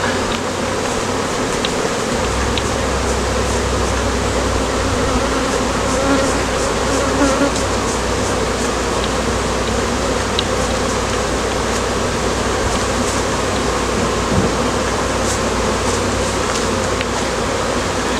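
Honey bees drone in a steady, dense hum as hive frames are pulled from a single brood chamber during harvest, with faint clicks and knocks of handling woodwork scattered through the continuous close buzzing.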